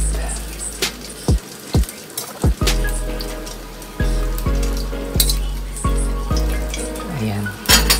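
A potato and crab omelette fries in a pan with a steady loud sizzle, punctuated by sharp clinks and scrapes of a utensil against the pan at irregular intervals.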